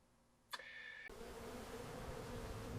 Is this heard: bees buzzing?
yes